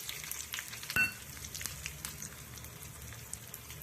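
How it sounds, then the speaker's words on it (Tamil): Mustard seeds, urad dal, curry leaves and dried chillies tempering in hot oil, a steady soft sizzle with faint popping and one sharper crackle, close and with no talking. "கடுகு பொறிஞ்சிட்டு உளுந்து கொஞ்சம் போட்டு தாளிச்சிப்போம் கருவேப்பிலை காஞ்சி மிளகாய் போட்டுக்கலாம்"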